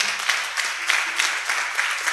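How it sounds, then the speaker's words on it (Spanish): An audience at a live folk music event in Posadas applauds a singer, the clapping steady and moderately loud with rhythmic swells throughout. "Un aplauso para ella también."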